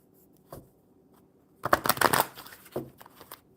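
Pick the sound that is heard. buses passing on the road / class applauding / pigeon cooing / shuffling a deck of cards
shuffling a deck of cards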